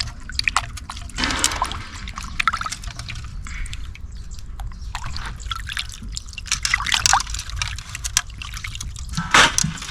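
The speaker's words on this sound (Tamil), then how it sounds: "மீனை கழுவி எடுத்து வச்சுப்போம்." Mackerel gets washed and rinsed in water by hand, with irregular close drips, trickles and small splashes running throughout, sometimes sharper sloshes, and no talking.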